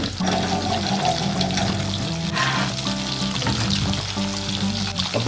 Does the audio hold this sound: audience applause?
no